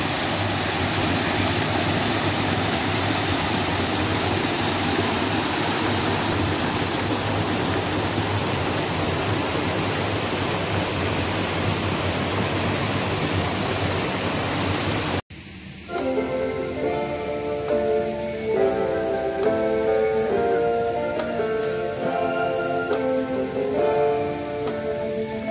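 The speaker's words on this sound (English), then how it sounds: "lumalagaslas na tubig" Rushing, steady water pouring into a small pond, a broad constant splashing wash that runs on loudly before cutting abruptly to music for the last ten seconds.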